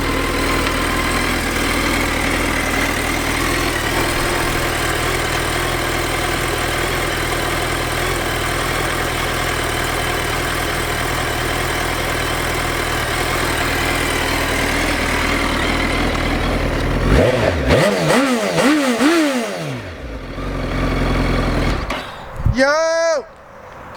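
A 2008 Suzuki B-King motorcycle engine idles loudly and steadily up close, then rises and falls through several sharp revs near the end.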